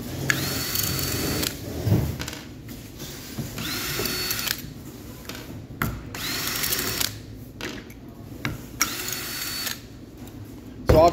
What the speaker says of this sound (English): I'm going to use a drill here to undo these.